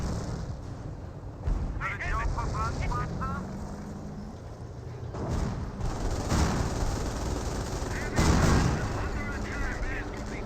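Gunfire and artillery fire hit a base in Company of Heroes, with several heavy booming bursts spread through the stretch under a continuous battle din while a commentator talks throughout.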